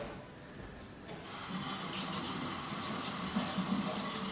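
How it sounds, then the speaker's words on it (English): Lukewarm water pours steadily into a bowl of pierogi dough, a soft continuous hissing splash that starts after a quiet second and runs close and even to the end, with no talk. "I'm going to add just a tad more water."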